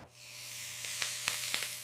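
A pork hamburger patty sears in a hot pan at home, giving a soft steady sizzle with a few sharp pops and crackles spread across the moment, fairly quiet and without speech.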